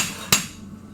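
A hammer strikes hot metal on an anvil during a forging guild meeting, a single sharp ringing clang that decays quickly into a quiet room, heard alone without talk.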